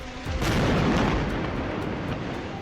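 A large bomb explosion, a deep sustained boom that swells quickly and rumbles on for a couple of seconds, loud and close with no voices.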